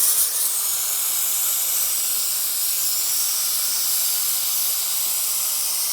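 Hydraulic clutch fluid on a Ducati 748 sucking through an opened bleed nipple: a steady, close hissing, sputtering rush with no talk over it.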